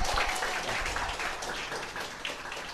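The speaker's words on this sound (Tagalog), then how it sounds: "Wala bang palakpak dyan?" An audience claps steadily through a business-opportunity presentation for AIM Global, a dense, continuous patter of many hands that holds near-constant loudness and fades only slightly toward the end.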